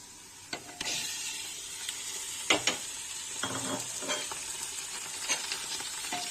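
Mutton pieces and browned onions sizzle steadily in a hot pan for mutton curry, with loud stirring scrapes and clatters breaking through the continuous frying hiss.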